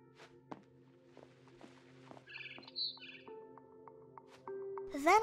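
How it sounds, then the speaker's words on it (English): Small bird chirps from a barn swallow outside a window in the video game What Remains of Edith Finch, short tweets over soft footsteps, thuds and ambient game music, ending in a louder musical swell. "Then I heard chirping outside my window."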